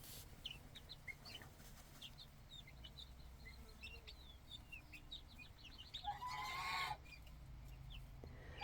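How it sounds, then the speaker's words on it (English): Chickens cluck softly and intermittently outdoors, a steady low hum underneath and a brief louder burst near the end. "it's just 10 minutes of chickens"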